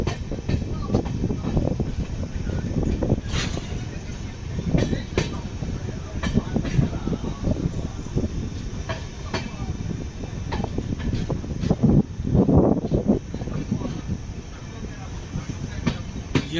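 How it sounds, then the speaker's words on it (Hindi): The Sachkhand Express rumbles into Mohali station in Punjab, a loud, continuous roar of wheels and carriages with rhythmic clatter and occasional squeaks heard from on board, while someone speaks over it. "साहबजादा अजीत सिंह नगर मोहाली में हमारी ट्रेन प्रवेश करती हुई।"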